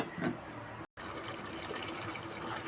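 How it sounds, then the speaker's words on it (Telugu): Mutton stock pours into a cooking pot in a steady, soft liquid gush, briefly cut off and then continuing, heard faintly and close without talk. "మటన్ ఉడికించిన వాటర్ అయితే ఉంది కదండి అదైతే ఇందులో నేను వేసేస్తున్నాను"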